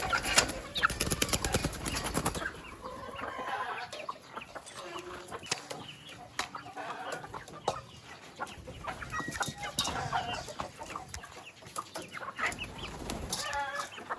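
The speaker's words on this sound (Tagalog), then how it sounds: "pakainin naman natin yung manok" Farm chickens clucking busily while being fed, a steady chorus of close, overlapping clucks and squawks with a rooster-like call now and then, continuous throughout with no talking.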